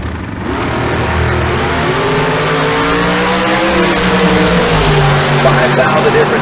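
Drag racing cars in a Super Pro class run down the strip at a bracket race, producing one loud, sustained engine roar that builds and holds close by for the whole stretch.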